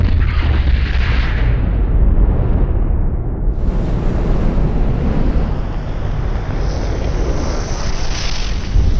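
A propane tank struck by a gunshot erupts into a fireball, a loud sustained roaring blast with heavy low rumble that continues for several seconds, with no voices.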